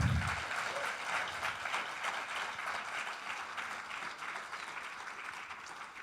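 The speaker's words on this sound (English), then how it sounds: "So please, another applause for them." A conference audience applauds the speakers and keynoters at a closing session, a dense, steady wash of clapping that fades slowly over several seconds with no talk on top.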